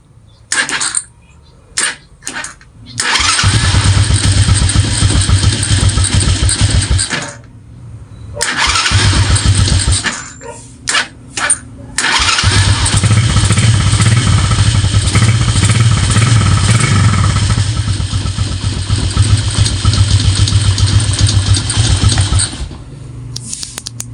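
A motorcycle engine cranks via a push-start button and catches after a few tries, then runs loud and steady at idle, cutting out and restarting briefly before idling on.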